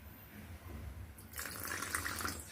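Faint room quiet, then a short stream of water pouring into a container of batter for about a second, soft and close.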